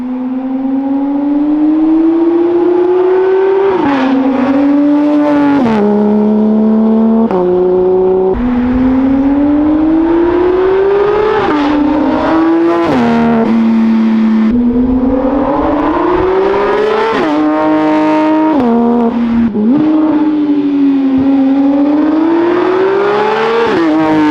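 A Porsche GT3 engine revs repeatedly with exhaust open in PDK Sport mode, rising and falling in loud bursts of exhaust roar with crisp gear changes, close by and alone without talk.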